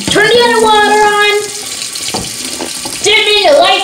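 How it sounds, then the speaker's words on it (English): Water running from a tap, a loud, close, steady gushing rush that dips briefly midway, with a voice and other voices sounding high over it. "Turn the other water on."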